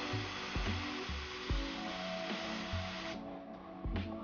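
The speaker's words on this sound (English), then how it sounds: "Why I do a backflush is just to get the paint that's in here at the needle." An airbrush backflushes thinned paint for fishing lures, giving short bursts of blowing air in an irregular rhythm against a steady airy hiss, close and moderately loud.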